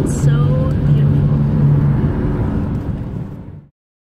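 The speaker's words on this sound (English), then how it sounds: "we are driving on the 20 to the coast" A car drives along Route 20 toward the Mendocino coast in November, its steady low road and engine rumble filling the interior for several seconds before cutting off abruptly.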